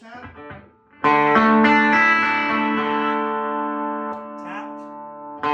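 A Suhr HSS Stratocaster electric guitar with its humbucker coil tapped, a loud strummed chord ringing out through effects and slowly decaying after a few quiet picked notes, with brief string noise near the end.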